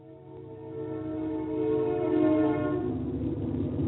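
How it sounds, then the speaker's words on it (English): A long, steady train whistle with layered tones, swelling slightly louder midway and sustained throughout, over low rumbling rail noise. "if you've missed hearing a train whistle, here it comes again."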